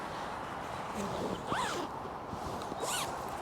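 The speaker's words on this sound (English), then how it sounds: "It just zips in." A zipper runs along a motorcycle jacket as the liner is zipped in: two short rasping zip strokes over a steady background hiss.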